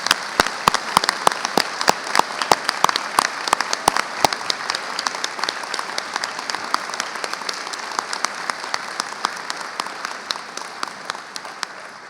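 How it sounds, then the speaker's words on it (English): A graduation assembly audience gives graduates a sustained round of applause: dense, even clapping with prominent nearby individual claps early on, gradually thinning and fading over about twelve seconds, no speech. "giving you one further great round of applause for that great achievement"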